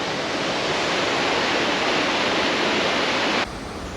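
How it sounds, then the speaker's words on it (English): A mountain waterfall near Lake City, Colorado, running hard with a loud, steady broadband roar, heard close and alone before it drops off abruptly at the end. "Last time I came up to this waterfall, it was like August, so it wasn't flowing nearly this hard."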